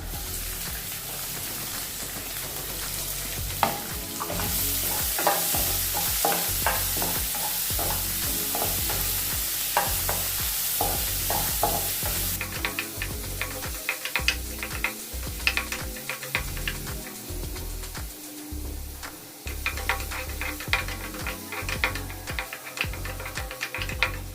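Onions frying in a pan with radish palya ingredients, a steady sizzle broken by frequent scraping stirs of a spatula that grow into a sharper, busier clatter partway through, close and continuous with no talking.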